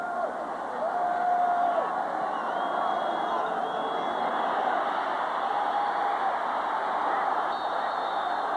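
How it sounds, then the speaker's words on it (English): A college football stadium crowd at USC versus Ohio State hoots and roars in a steady loud wash, with a commentator's voice faintly over it. "Crowd hooting for grounding, but there isn't any."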